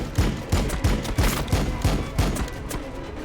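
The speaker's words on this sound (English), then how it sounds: "Firing on the enemy." Gunfire in the video game Warhammer 40,000 Battlesector, a rhythmic series of heavy booming shots at roughly half-second intervals, loud and close, continuing through the whole stretch without voices.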